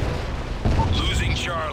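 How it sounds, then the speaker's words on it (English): A Predator missile strike in a video game lands with a heavy, deep boom partway through, followed by a rumbling tail and scattered game sounds. "Friendly Predator missile inbound."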